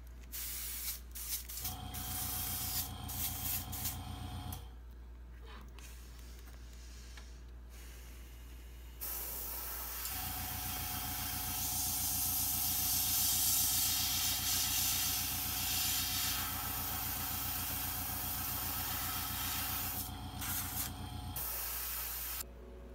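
An airbrush spraying gold paint onto a golden shad fishing lure, a close, steady hiss running in long bursts with a low compressor hum underneath and short pauses between passes.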